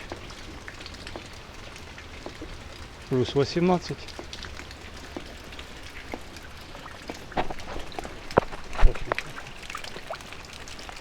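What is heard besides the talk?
rain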